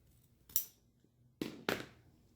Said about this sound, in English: it's going to take me a while to go around the edge of this with scissors